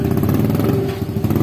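A motorcycle engine idles steadily up close, its low, even chugging running without a break and with no voices over it, the bike stopped at the roadside in Bulacan after its chain failed.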